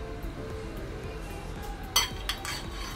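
A spoon clinks against a bowl while chicken tikka marinade of spices, salt and red food colouring is mixed, with one sharp clink and a softer knock over a steady low kitchen hum.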